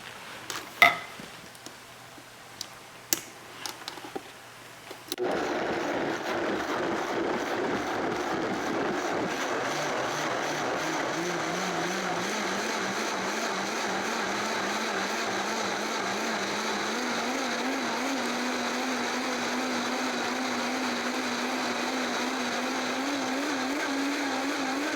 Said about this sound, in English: I will turn the volume down on the blender for you